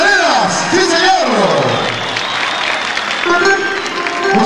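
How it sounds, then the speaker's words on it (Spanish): A live audience at an eleventh-anniversary stage event claps and cheers to welcome a performing duo, with whoops and shouts rising over steady applause while an announcer's voice carries on over the crowd. "recibamos con un fuerte aplauso para este gran dúo"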